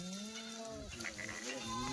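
Kathiawadi dairy goats, a white doe among them, bleating up close in a few drawn-out wavering calls that run into one another, heard fairly faintly over light background noise.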